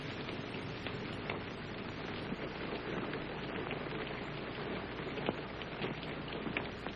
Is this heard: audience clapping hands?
no